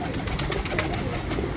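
Rampuri pigeons coo in a soft continuous murmur, heard close and steady for a moment among flock noise.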